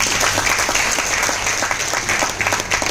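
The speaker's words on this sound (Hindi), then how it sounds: "एक जोरदार ताली हो जाए" Steady applause from a crowd, dense clapping filling the whole stretch at an even, fairly loud level with no talking.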